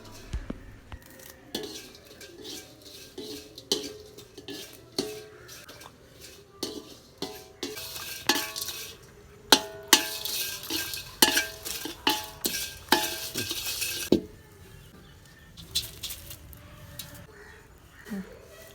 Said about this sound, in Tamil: ஒரு 100 கிராம் பட்டை, கிராம்பு இதெல்லாம் சேர்த்து நல்லா வதக்கி எடுத்துக்கலாம்